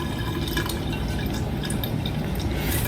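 Water poured and dripping over unglazed bisque-fired pottery, a close, continuous wet trickling and splashing with no speech.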